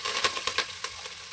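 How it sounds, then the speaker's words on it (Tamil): Onions sizzle in hot ghee with green chilli and curry leaves for ghee rice, a steady close frying crackle with a few soft stirring scrapes and no voices. "நல்லா வெங்காயம் வதக்கிக்கலாங்க"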